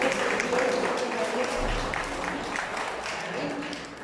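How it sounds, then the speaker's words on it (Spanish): Church congregation applauding during a Spanish-language sermon, a dense wash of clapping from a crowd that carries on steadily throughout, with a voice faintly mixed in. "Denle un aplauso al Señor."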